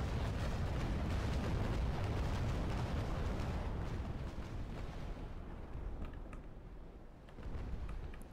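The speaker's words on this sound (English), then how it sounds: "Still getting picked at by the long-range guns of the Constitution." Long-range cannon fire from the frigate Constitution in the naval combat game Naval Action: a loud, dense rumbling barrage of booms that fades slightly and thins toward the end, with no voices.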